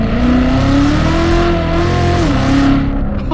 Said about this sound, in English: the RPMs climbed up, and then it made that nice loud exhaust pop